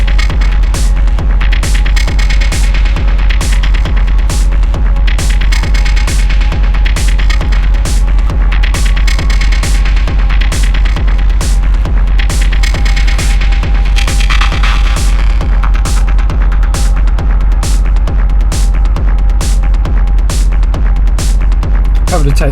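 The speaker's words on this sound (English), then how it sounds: "that weird synth sound" A techno track pulses with a steady, loud throbbing beat under a buzzing synth tone that keeps repeating throughout.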